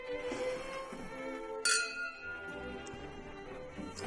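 Glasses clink together in a dinner-table toast, a single bright ringing chime that decays slowly, heard quietly over a soft room background.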